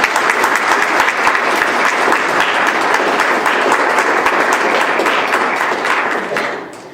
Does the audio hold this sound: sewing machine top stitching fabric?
no